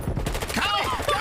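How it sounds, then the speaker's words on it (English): Rapid bursts of gunfire in an esports hardpoint match between LA Thieves and Minnesota Røkkr crackle close and dense for the whole moment, layered beneath excited commentator voices. "How dare you shoot at me"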